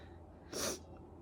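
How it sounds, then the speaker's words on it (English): A single sneeze, one sharp burst of breath about half a second long, close to the mic and alone against quiet room noise. "And I have to sneeze."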